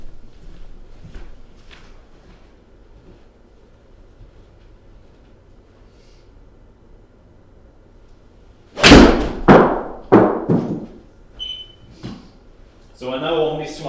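Golf shots during a Trackman 4 practice session: after quiet room tone, a sharp close club strike rings out, followed by a couple of softer impacts and some brief talk.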